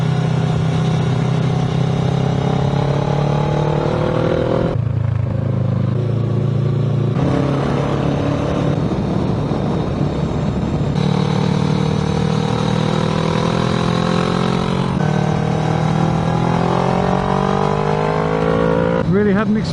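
A motorcycle climbs a mountain pass at night through hairpin bends, its engine rising and falling as the rider shifts and revs through the turns. The engine note stays loud and close, with a rider talking over it.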